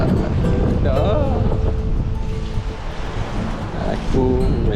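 Steady wind blows across a bridge over the sea off Penang, a broad continuous rush and buffeting on the microphone, with faint talk and a few brief tonal sounds mixed in.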